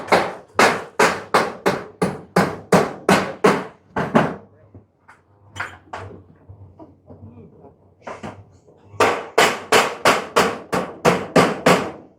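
Hammer blows ring out while a house roof is being laid, two sharp rhythmic runs of about ten strikes each. Between them someone talks quietly over scattered taps and shuffling.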